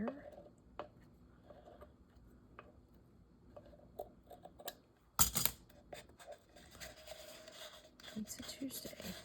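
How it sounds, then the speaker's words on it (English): Scissors cutting paper for a homemade Christmas gift craft, with soft intermittent snips and rustles close by, a louder crunchy cut midway, and quiet handling noises afterward. "Cut this part off here."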